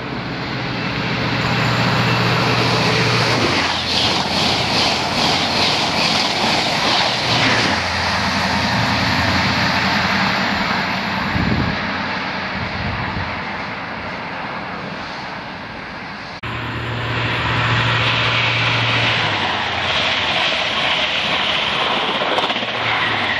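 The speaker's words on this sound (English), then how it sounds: "The approaching train is not scheduled to stop at this station." A UK HST high-speed train runs through a station at platform 3 without stopping, producing a loud, sustained roar and rumble for over twenty seconds, with a brief dip before the noise surges again.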